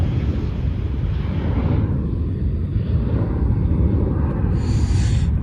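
A plane taking off at George Bush Intercontinental Airport, a steady loud low engine roar and rumble that holds for several seconds with a faint higher whine near the end, no talking.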